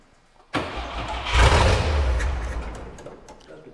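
A 1968 GMC C2500 with a big block cranks and fires after gas is poured into the carburetor, catching abruptly then roaring loudly before settling toward a rough idle, close by.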